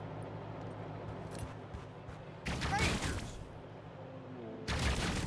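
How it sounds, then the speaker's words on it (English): Two loud bursts of rapid gunfire from a firefight in the post-apocalyptic game Wasteland 3 break through a quieter ambient background, the second burst cut off at the end. "Where's the shooting going on? I can hear shooting."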